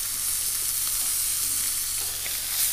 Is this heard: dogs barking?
no